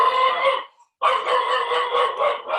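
A guard dog barks in a rapid, high-pitched run of yapping, breaking off briefly and then starting again, close and loud with no voices over it.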